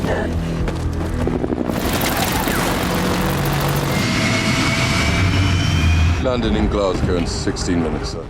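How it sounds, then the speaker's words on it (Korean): A jet airplane takes off from a runway in a science-fiction action film, a loud rising engine roar with whining tones and clattering action sounds, while a voice narrates over it. "활주로에서 이륙하는 비행기 의 위로 지체 없이 몸을 날리고 있었던 에반의 모습"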